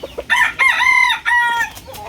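A White Kelso gamecock rooster crows up close, one loud, drawn-out cock-a-doodle-doo after a couple of short clucks, ending in softer trailing notes.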